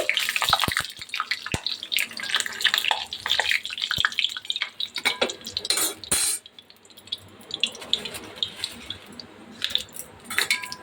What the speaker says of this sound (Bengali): আর একটুখানি পাঁপড় ভেজে নিচ্ছি। এই যে কড়াইতে তেল দিয়ে দিয়েছি।